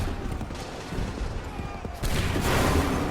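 A musket volley rings out on the Bunker Hill battlefield in Assassin's Creed 3, a loud burst of massed gunfire that swells into a dense, sustained roar after a stretch of background battle noise.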